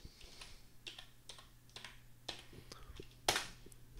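Keystrokes on a computer keyboard as a name is typed, a quick run of light clicks with one sharper, louder press near the end, fairly close and with no talking over it.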